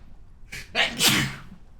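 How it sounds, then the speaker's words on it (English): A single sharp sneeze, a gasping intake then an explosive burst, close and fairly loud, with a room quiet around it. "I'm sorry, Jonathan, for sneezing."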